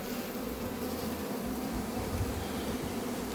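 Dense, continuous buzzing of many honeybees swarming close by at an apiary hive during an acacia nectar flow, a steady droning hum throughout.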